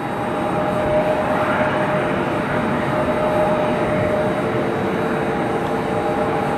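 Southwest airliner taxiing at Cleveland Hopkins Airport, a loud continuous engine roar and whine holding steady throughout, with no voices.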